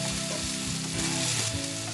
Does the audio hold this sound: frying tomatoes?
yes